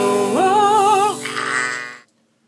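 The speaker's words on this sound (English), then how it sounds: "This sheep has nothing to do with the video" A single sheep bleats once, loud and close, a wavering drawn-out call that trails off into silence.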